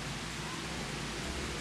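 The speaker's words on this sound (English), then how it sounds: "It's raining." Steady rain falls in a continuous even hiss, dense and close, with no breaks across the short stretch and no voices.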